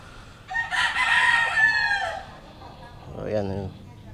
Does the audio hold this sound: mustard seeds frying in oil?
no